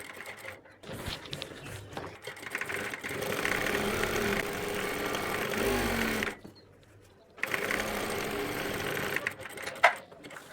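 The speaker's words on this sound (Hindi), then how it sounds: "इस पट्टी के ऊपर हमने किनार की सिलाई लगाना है" An electric sewing machine runs a steady, fast stitching hum while sewing the folded edge strip of a kurti. It breaks off briefly partway through and then resumes.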